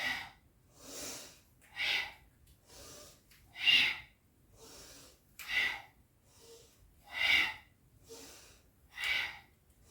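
Slow, deep yoga breaths during a flowing practice, each inhale and exhale rising and fading in a steady rhythm of about nine or ten audible breaths, close and fairly quiet with no talking.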